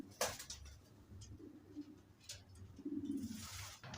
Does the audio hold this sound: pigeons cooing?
yes